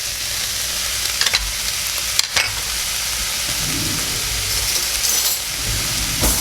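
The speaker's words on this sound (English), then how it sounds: "we're going to add about a half of an onion." Half an onion sizzling and frying in a pan for sloppy joes, a steady loud hiss with occasional crackles and brief stirring clatters, close by and with no talking.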